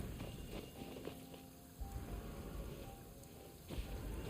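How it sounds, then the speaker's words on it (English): Rain falls in the video game Tales of Arise as a soft, steady hiss of drops, faint and continuous, with a few low thumps rising out of the wash. "It's raining."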